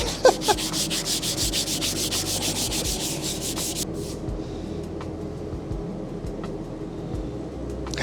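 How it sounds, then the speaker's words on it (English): Rapid back-and-forth scratching of sandpaper on a widebody WRX body panel, loud and close, strokes pausing partway before a lighter continued rubbing. "You'll keep sanding."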